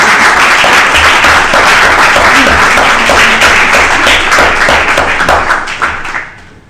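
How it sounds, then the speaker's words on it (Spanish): A room full of people applauds at a talk on the vertebrate fauna of the Muniellos nature reserve: dense, steady clapping that keeps going, then fades out near the end. "pido un aplauso para los tres"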